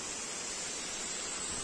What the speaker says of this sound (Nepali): जलबिरे वाटरफल लामो झरना